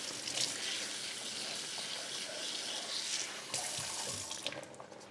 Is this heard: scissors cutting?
no